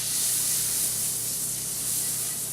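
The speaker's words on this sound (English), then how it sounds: "take a nice chunk of butter, get that right into our pan there" Butter melting in a very hot pan gives off a steady, bright sizzling hiss that carries on evenly for a couple of seconds, with no voices over it.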